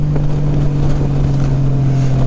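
A 2018 Honda Goldwing Tour with Shark Road mufflers and a BT Moto Stage 1 setup drones steadily at speed, its low exhaust tone buried under constant heavy wind rush.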